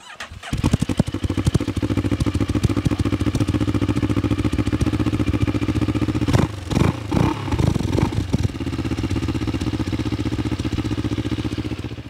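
A Moto Morini X-Cape 649 motorcycle engine idles with a steady, rattling rumble, briefly revved a few times in quick blips before settling back to idle.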